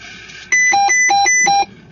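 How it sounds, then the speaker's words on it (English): A weather station beeps during a hurricane, with a loud repeating electronic beep pattern of alternating tones lasting about a second, clear and close against quiet background. "And that beeping noise, I get rid of that."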